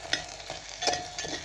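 Vegetables stirred around in a large cooking pot, a few soft scraping and clattering strokes with faint sizzling underneath, close and fairly quiet.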